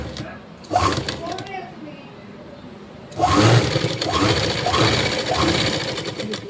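An electric sewing machine runs in short bursts, stitching along an existing seam on a pair of pants, with a voice talking between and over the stitching.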